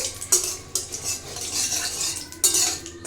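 A spoon scrapes and clinks against a cooking pan while stirring sugar for a chicken dish, several sharp metallic strokes over a soft continuous rustle, close and without talk.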